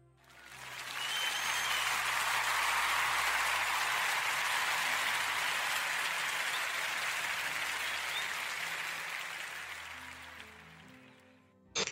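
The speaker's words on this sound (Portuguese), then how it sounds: "eu quero pedir a toda a gente uma enorme salva de palmas, por favor" A crowd delivers a big, sustained round of applause, dense steady clapping that swells quickly, holds for about ten seconds, then fades out, with no talking over it.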